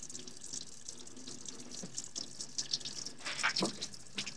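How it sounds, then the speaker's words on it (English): Water runs from an opened valve on an outdoor Central Boiler wood furnace with a Taco pump, a steady close splashing hiss with brief louder spurts and drips toward the end, no voices. "What's leaking? Oh, just water."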